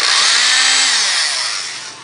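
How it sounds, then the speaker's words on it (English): A power drill bores a smaller pilot hole into a pre-drilled hole in wood for doll bunk bed parts, a loud steady high whine that holds for two seconds and eases slightly at the end, with no talking. "we're going to go into the hole that we pre-drilled and drill a smaller hole"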